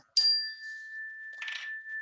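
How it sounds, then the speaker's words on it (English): A meditation gong is struck once, with a sharp metallic onset followed by a long sustained ringing tone that lingers and shimmers, plus a softer brushing sound later. "Then I'm going to hit my gong"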